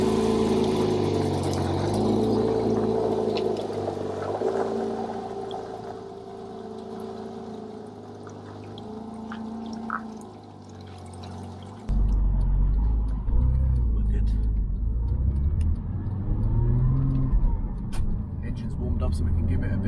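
A Porsche flat-six engine hums and drones, then surges louder and deeper as it accelerates, a steady rumbling roar from inside the car.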